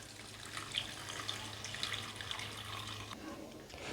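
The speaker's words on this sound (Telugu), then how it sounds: "ముందుగా నానపెట్టుకున్న మనము వాటర్ వేసుకోవాలి." Water runs into a cooking pot holding soaked rice and spices, a steady close pour with light splashing that stops abruptly near the end.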